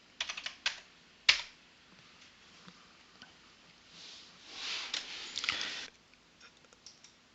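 Quiet clicking of keys on a computer keyboard during pipe-routing design software work, a few isolated taps, a sharp louder click, then a denser burst of typing, close and faint without speech.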